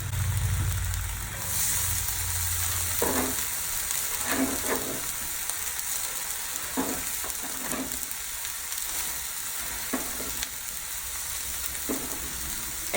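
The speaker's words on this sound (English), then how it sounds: "Next, we're gonna add the onions." Onions for a spinach and onion omelette frying in a pan, a steady crackling sizzle with periodic scrapes and taps of stirring, close and alone without talk.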